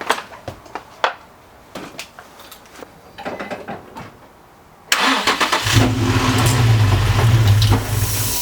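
A Nissan 350Z is cranked with a few clicks and clunks, then the engine catches abruptly and runs at a loud, rough idle up close for the last few seconds.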